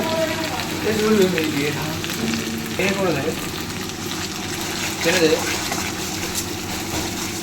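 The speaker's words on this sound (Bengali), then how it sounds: "সবগুলো দিয়ে এবার নাড়াচ্ছি ভালো মতো" A pan of yogurt, onion, ginger-garlic paste, green chili, poppy seeds, melon seeds and cashews is stirred while it sizzles, a close wet frying hiss with scraping spoon strokes and a voice talking over it.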